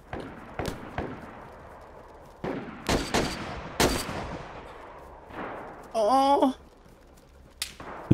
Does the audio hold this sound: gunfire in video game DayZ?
yes